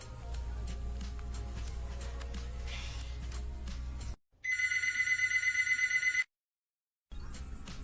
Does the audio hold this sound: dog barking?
no